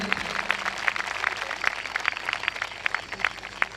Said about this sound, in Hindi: आइए हम जोरदार ताली बजाते हैं स्वागत करेंगे